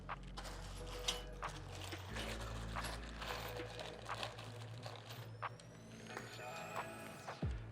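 A screw being driven in while a TV wall mount is installed, giving a quiet ratcheting, clicking mechanical whir that runs for several seconds over a low steady hum.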